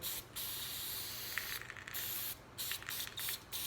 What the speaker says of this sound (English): Again, brake cleaner, you're going to use lots of this. Clean this off good.